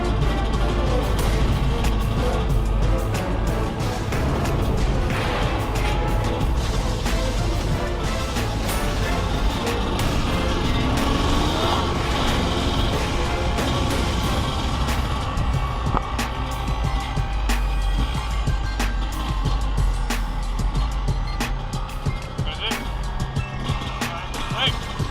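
Steady engine drone and rumble from a dirt bike riding easily down a gravel road toward a trail, continuous and fairly loud throughout with rough crunching texture and a voice talking over it.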